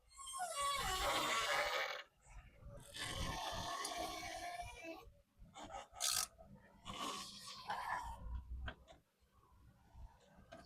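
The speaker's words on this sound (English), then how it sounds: "I'm going to get a socket wrench and tighten that up" A socket wrench tightens a bolt on a sagging wooden fence gate, giving close, raspy ratcheting strokes in three separate bursts with short pauses between them.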